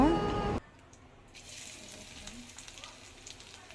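Onion and garlic frying in oil with dry chillies, bay leaf and cumin for a dal tempering, a faint steady sizzle close by that follows a brief loud burst at the start.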